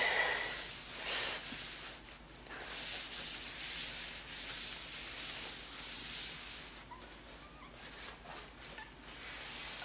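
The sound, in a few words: wiping Goo Gone residue off a laptop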